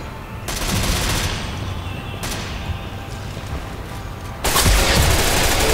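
Gunfire in the tactical shooter Ghost Recon: loud, continuous automatic fire rattling throughout, with sharper bursts starting partway in and near the end.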